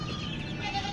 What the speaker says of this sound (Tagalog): Kambing, oh. Ayaw ng damo.